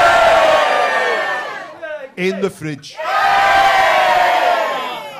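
A large crowd roars and shouts in loud, sustained waves, breaking off briefly while someone speaks before the cheering surges back up and carries on.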